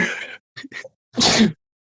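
A single loud, close sneeze bursts out at the end, preceded by a couple of short breathy intakes and a brief vocal sound.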